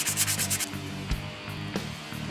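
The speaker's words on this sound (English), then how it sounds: "lightly sand the rotor and wheel spacer to make sure the two surfaces are extra clean" Close, rhythmic hand sanding of a brake rotor and wheel spacer surface, with quick back-and-forth rubbing strokes and a few harder scrapes, and no voices.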